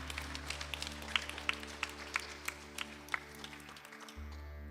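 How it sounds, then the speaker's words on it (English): Scattered applause from a small audience honouring a guru at a Guru Purnima gathering, individual claps standing out sparsely over a low steady hum that cuts off briefly near the end. "Please give him a round of applause"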